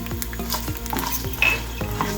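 Peanuts frying in hot oil and being stirred in a pan while making amla rice. A steady close sizzle runs throughout, with a spoon scraping and rattling the nuts about every half second, and no voices.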